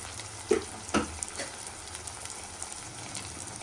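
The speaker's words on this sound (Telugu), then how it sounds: "ఇవన్నీ సిమ్లో ఉంచుకొని బాగా ఫ్రై చేసుకోవాలి" Spices and ground coriander fry on low heat in a pan for kushka biriyani, a steady soft sizzle broken by a few stirring knocks near the start.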